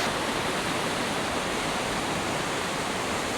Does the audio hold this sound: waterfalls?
yes